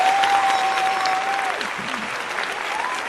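Applause from a crowd, dense and steady clapping that gradually softens, with a faint thin tone running beneath it.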